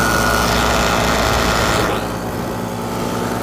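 Light aircraft engine at full power around 6,500 RPM before failure, a loud, dense, continuous high-pitched drone that drops slightly in tone partway through and keeps running steadily.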